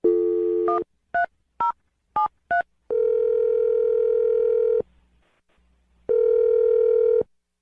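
A telephone line plays a steady dial tone, broken by six quick keypad beeps as a number is dialed, then long tone bursts with a short silent gap between them.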